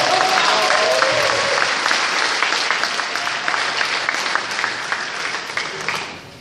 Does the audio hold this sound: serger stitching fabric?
no